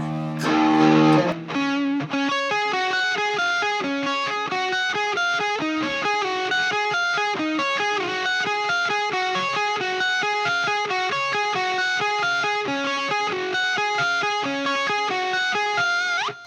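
An electric guitar through an Ibanez PT5 pitch shifter pedal set a half step down plays a steady run of bright, slightly distorted notes, close and alone.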